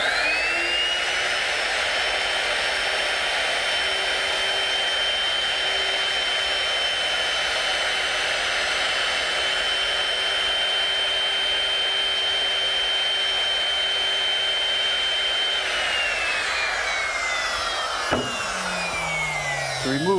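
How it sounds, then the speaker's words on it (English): A handheld router fitted with a half-inch straight bit cuts a mortise freehand in wood, a loud steady high-pitched whine held at constant pitch for about sixteen seconds before winding down as the motor shuts off. "to remove the material for the mortise, I'm going to use my router, which I've set up with a half-inch straight-cutting bit"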